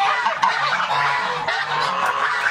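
A 13-week-old goose on a Nigerian goose farm honks repeatedly at close range. The calls are loud and nasal and run together over the whole stretch, with no voices heard.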